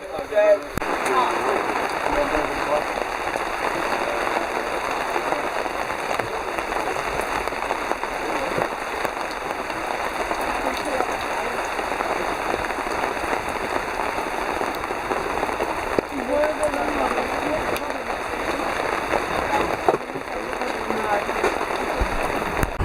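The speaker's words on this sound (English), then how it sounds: "It's raining." Steady rain drums on a tent at a scout camp on a lake during a sudden squall, a constant close hiss with people talking now and then beneath it.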